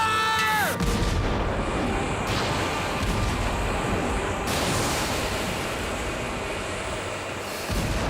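Weapons firing in a 1997 battle scene, a dense continuous roar of heavy blasts and rumbling booms from a submarine fight, loud and sustained throughout with no voices.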